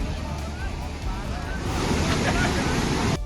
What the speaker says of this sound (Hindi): पानी का बहाव काफी तेज था